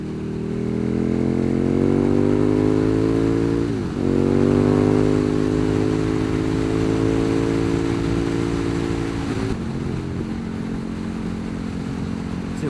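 KTM Super Duke 1290 R motorcycle being ridden, its engine a loud, close, steady drone with a brief dip in pitch partway through before holding a smooth cruise, wind noise over the top.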